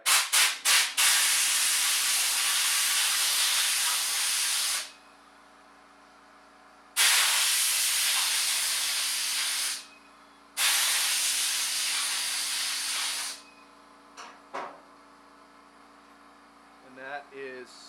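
Compressed air blasts off a wet anodized titanium knife handle in three long, loud, steady hissing bursts of several seconds each, with a few short puffs before and after over a faint electrical hum.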